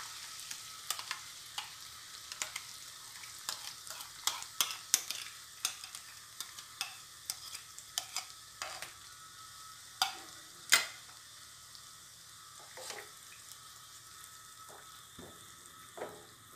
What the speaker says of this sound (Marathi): आता आपण कांदा, टोमॅटो, काजू आणि मगज बीची पेस्ट घालून परतून घेऊया.